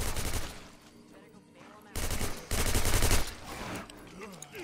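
Automatic gunfire in the zombie survival game State of Decay, rapid bursts of shots in two clustered volleys over steady background noise.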